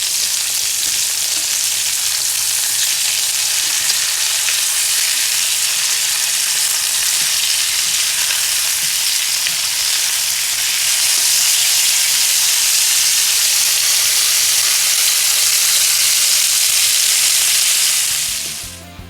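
Dry-brined picanha steaks sizzle loudly and steadily in a hot pan right after being flipped, a dense, continuous crackling hiss that grows slightly brighter partway through before cutting off at the end.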